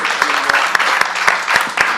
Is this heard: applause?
yes